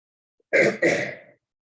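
A single close throat-clearing cough in two quick bursts, loud against otherwise silent surroundings.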